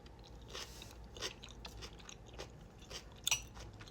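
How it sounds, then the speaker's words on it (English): Crunchy bean salad is chewed in close, quiet bites, with a series of soft crunches spaced about half a second apart and one sharper crackle near the end. "Have some bean salad."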